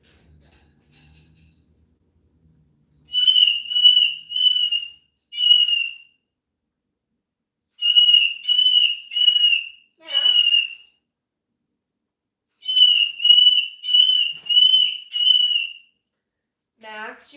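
A pet bird whistles loudly indoors in three separate bursts of repeated high, pure, trilling notes, each followed by silence, with a faint squawk near the end.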